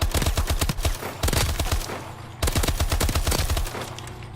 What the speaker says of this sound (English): So let's take it out onto the firing range and see where this gun works.